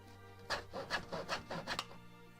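A hand saw cuts relief cuts into a wooden tenon in about seven quick, rhythmic rasping strokes, close and fairly loud, after a brief quiet start.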